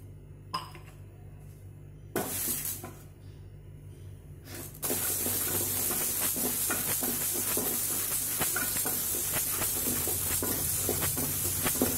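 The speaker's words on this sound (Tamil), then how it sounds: "இப்போது இந்த ஒரு டம்ளர் பாசி பருப்பை வறுத்துக்கலாம்" Moong dal dry-roasting in a pan on a gas stove, stirred steadily: a continuous dry rustling hiss with light scraping that grows louder after a few quiet seconds, with no talk.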